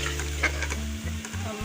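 Masala sizzling in hot oil in a pan while being stirred for sarson ka saag, a steady crackling fry with a low continuous hum underneath and a few scraping stirs, close and alone.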